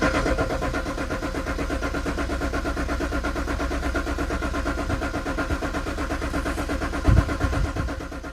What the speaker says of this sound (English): Let's turn it over, lights off.